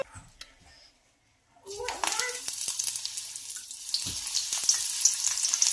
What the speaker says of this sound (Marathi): गॅस बंद करून हिरवी मिरची सुद्धा तळून घेणार आहोत